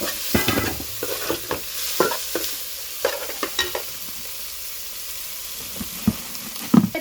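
Beef liver sautéing with crushed pepper and green chillies in a pan: a steady close sizzle with bursts of spatula stirring and scraping, busier in the first half and then settling into quieter frying, with no talking.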